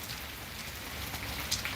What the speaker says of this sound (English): it's raining behind me